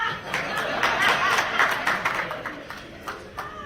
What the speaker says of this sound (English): clap hands for me again